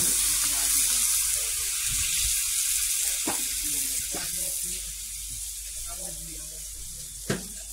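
About half a cup of water poured into a hot cooking pan in a countryside kitchen, giving a steady sizzling hiss with occasional sharp clinks, faint voice-like murmurs underneath.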